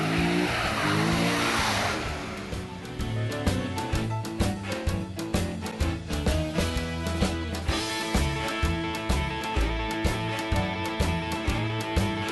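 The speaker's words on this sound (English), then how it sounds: "frying the tires" A Corvette does a burnout with its tires squealing, a steady roar at first that turns into loud, rhythmic engine pulsing and screeching, sustained and close.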